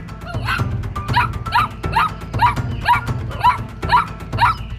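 A cartoon dog barks repeatedly in a fast, regular rhythm, about two sharp barks per second, close and loud.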